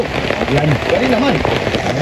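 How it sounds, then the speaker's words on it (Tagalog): Heavy rain falls on surfaces, a dense, loud hiss of close downpour with scattered drop impacts, while a voice speaks over it. "grabe po ang ulan"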